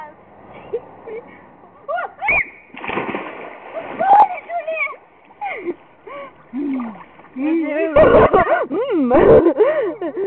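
Outdoors by open water, people shout and chatter in French while someone jumps in, with a few sharp splashes breaking through the voices near the end.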